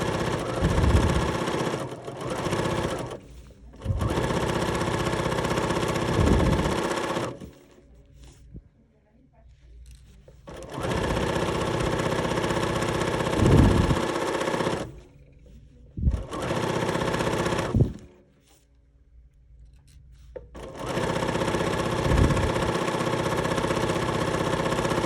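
A sewing machine stitches fabric for a penguin-themed quilt pattern in several long runs of loud, steady mechanical whirring, separated by quiet pauses where pins are removed, with a voice speaking in between.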